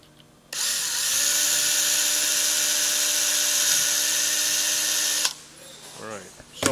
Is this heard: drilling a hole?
yes